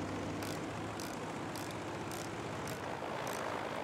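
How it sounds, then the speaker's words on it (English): Airplane engine drone in the World War II shooter game Battlefield V, a steady loud propeller hum filling the background while a sharp pulsing sound repeats about every half second, with no one talking. "I hear a plane."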